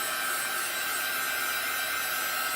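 A heat tool or hair dryer blows air steadily during a chalk crafting project, a loud constant hissing whoosh with a faint hum, heard alone.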